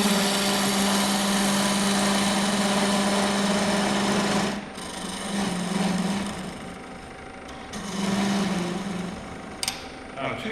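A wood lathe spins a wooden workpiece at 1,500 RPM with a steady, high-pitched mechanical whine that dips and swells, while someone talks over it.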